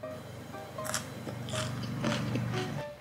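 Crunchy bites of cabbage eaten alongside fried chicken karaage, with several close, moist crunching and chewing bursts repeating in an irregular rhythm over a steady low background hum.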